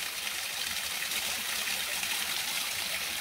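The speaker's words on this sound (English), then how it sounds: "I'm going to fill my water container up." Cold drinking water from a mountain stream in Santa Catarina, southern Brazil, rushes steadily into a water container close by, a constant bright trickling gush with no talking.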